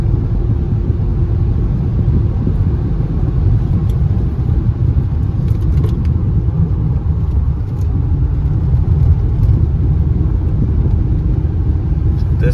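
A Honda car engine runs on a morning, giving a continuous low rumble with a steady idle hum throughout, close by and fairly loud, with no voices.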